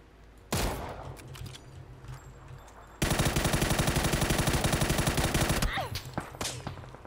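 Automatic rifle fire in a close-range shooter video game: a sustained rapid burst of loud, evenly spaced shots for several seconds, preceded and followed by scattered single shots and game ambience.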